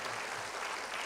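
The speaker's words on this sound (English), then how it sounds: "Please give them a very lusty round of applause." Brief, faint applause from the audience at a graduation ceremony, a soft, distant patter of clapping lasting about a second.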